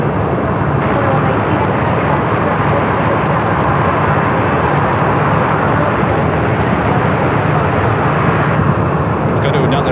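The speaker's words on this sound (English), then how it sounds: "Oklahoma City is where this aircraft is going as it's getting really loud here" An airliner departing Phoenix Sky Harbor for Oklahoma City roars loudly and steadily in a broad jet rumble that fills the whole stretch, with no break in the engine noise.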